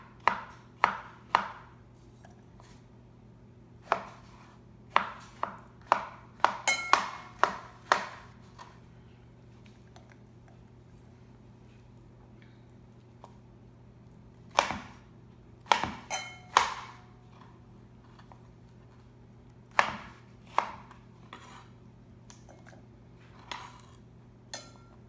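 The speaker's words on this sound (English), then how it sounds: "all I have to do now is cut these up into bite-sized pieces and put them in this bowl" A knife chops charred summer squash into bite-sized pieces on a board, with quick clusters of crisp thuds separated by quiet pauses over a low steady hum.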